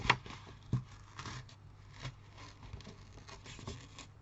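Quiet snips of scissors cutting paper, a few irregular cuts with soft rustling between them and no talking.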